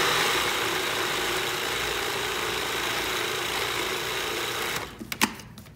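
A food processor blending a mushroom, bean and barley burger mix runs with a loud, steady mechanical whir, then cuts off near the end, leaving a few clicks and knocks.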